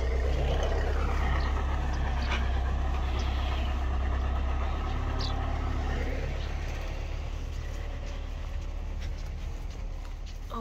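A tractor drives around a village plot, its low engine rumble steady and moderately distant, slowly fading toward the end, with a few faint background sounds and no voices.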